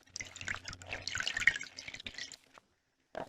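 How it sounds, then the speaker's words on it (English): Water drips and trickles nearby from a watering pad being soaked in a container, with a short run of splashy drops, a brief silence, then another splash. "You want to take that watering pad and stick it in your container, get it good and wet."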